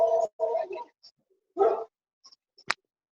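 A small dog barks in short bursts at home during an online criminal-law class: two quick yaps, a pause, then one more bark, fairly close and loud against otherwise quiet room tone.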